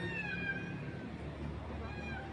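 A neglected, hungry cat meows thinly and plaintively, two or three drawn-out cries at moderate distance over a low background murmur.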